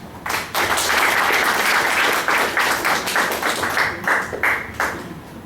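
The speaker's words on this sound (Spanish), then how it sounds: "por favor lo recibimos con aplausos" An audience applauding, with dense overlapping claps that hold steady for several seconds, then thin out and fade.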